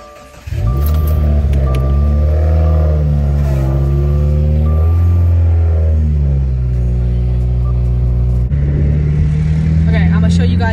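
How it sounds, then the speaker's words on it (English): A car engine cold start: a brief crank, then a loud, close engine catches and settles into a high idle with shifting tone, the pitch dropping and steadying near the end. "Here's a cold start for all my little car lovers."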